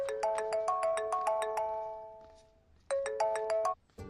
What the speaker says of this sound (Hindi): भैया, आपको किसी का फोन आ रहा है।